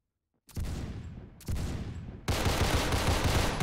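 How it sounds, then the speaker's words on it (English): Pistol gunfire in the Roblox Phantom Forces video game, three loud sharp bursts in quick succession, each followed by dense reverberant noise, the last one longest and sustained. "See if I can get him with a pistol."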